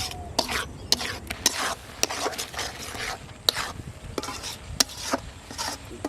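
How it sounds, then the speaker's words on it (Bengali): Boiled lentils being stirred with spices in a pan, a ladle scraping and knocking in close, irregular strokes, with a faint sizzle underneath. "ডালটা দিয়ে মশলার সাথে ভালো করে নেড়ে চেড়ে তারপর শাক দিয়ে দেব।"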